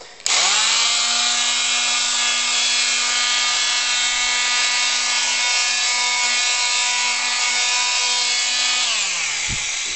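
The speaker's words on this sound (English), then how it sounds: "that's my renovator with a little disc on there" A renovator oscillating multi-tool fitted with a small sanding disc smooths wood. It gives a loud, steady high-pitched buzzing whine that starts abruptly, holds constant for several seconds, then winds down at the end.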